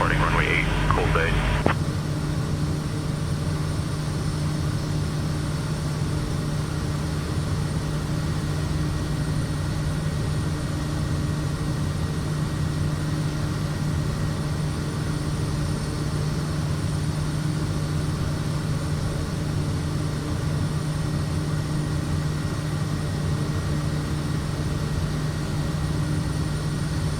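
Kodiak 100 single-engine turboprop at takeoff in the flight simulator game MSFS 2024, a loud, steady droning engine hum with a constant low tone throughout, after a brief noisy burst at the very start.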